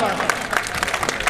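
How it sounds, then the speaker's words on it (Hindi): Applause breaks out at a Holi gathering, a brisk burst of many hands clapping close by, uneven and crackling across the short stretch. "इसलिए एक बार इनके लिए जोरदार तालियां।"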